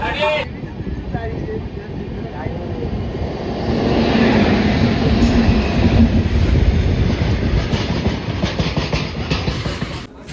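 A Duronto Express train runs after leaving Bhubaneswar, its steady rumble and rhythmic clickety-clack of wheels on rails swelling louder partway through and filling the carriage throughout.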